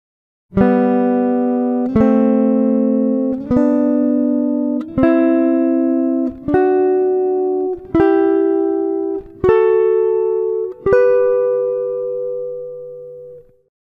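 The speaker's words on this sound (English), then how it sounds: "let's have a listen to what thirds sound like on the guitar" Eight sustained two-note guitar chords in thirds ring out one after another at an even pace, bright plucked tones in parallel harmony, each decaying slightly before the next.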